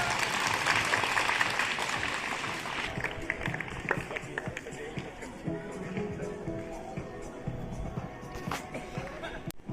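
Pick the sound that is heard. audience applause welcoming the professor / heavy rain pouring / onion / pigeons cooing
audience applause welcoming the professor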